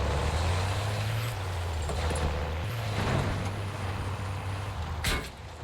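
A vehicle in the battle royale game Warzone drives across the Verdansk map, its engine a steady low drone with a higher hiss and a sharp burst near the end, heard alone without talk.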